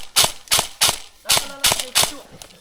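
Airsoft guns fire in an outdoor woodland skirmish, giving about six sharp, evenly spaced snaps in quick succession, close by, with faint voices between them.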